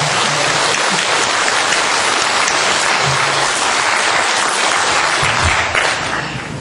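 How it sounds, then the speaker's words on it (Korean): An audience at a women's political workshop claps together in loud, dense, sustained applause that fills the room and fades slightly at the end. "우리 서로 함께 격려의 박수를 쳤으면 참 좋겠습니다"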